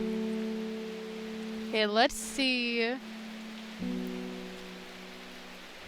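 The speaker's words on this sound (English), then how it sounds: "It's raining today." Rain from the video game Strange Horticulture falls as a steady, soft hiss throughout, beneath a short spoken phrase and sustained low tones.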